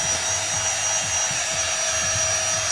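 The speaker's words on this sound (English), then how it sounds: "This is the vacuum that we leave in our car, so if it gets messy, it's easy to just pick everything up." A 24KPA cordless handheld car vacuum runs with a steady, even motor whine and airflow hiss, joined by soft low rhythmic bumps as it is swept left and right, with no talking.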